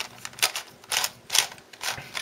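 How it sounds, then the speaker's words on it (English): A Dayan Gem V twisty puzzle, heavily lubricated, being turned by hand in close, quiet clicks. Four separate bursts of clacking come at irregular intervals with nothing else between them. "this kind of almost quite deep cut move, which moves the entire squares and splits up the hexagons, and the hexagonal faces rotate."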